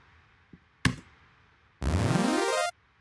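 A dry, buzzy square-wave synth tone with a rising pitch sweep, played alone without effects after a couple of faint clicks, cutting off abruptly with no echo or tail.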